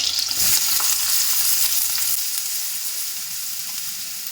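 Chopped onions hit hot oil with a loud, dense sizzle that holds steady and eases slightly over a few seconds, heard up close without speech.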